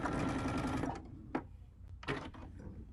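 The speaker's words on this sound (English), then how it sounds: "I'm just going to sew that closed" Sewing machine stitches a quilt binding closed, running in a fast, close whir for about a second, then stopping, with a few clicks and short thumps as the fabric is handled.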